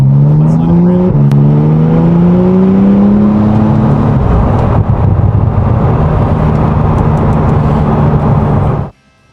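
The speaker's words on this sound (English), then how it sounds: "Very light acceleration for the 911 Turbo" A 2014 Porsche 911 Turbo accelerates lightly, its engine note rising steadily with a gear change around one second, loud and close for several seconds before cutting off abruptly.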